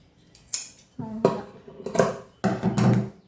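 Scissors cut through stacked chudidar top fabric, three tops' worth layered together: a few close, crisp snipping and rustling bursts separated by short pauses, with no voices.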